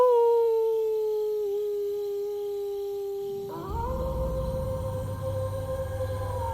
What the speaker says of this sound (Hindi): रात को दूर से कुत्तों की भौंकने की आवाज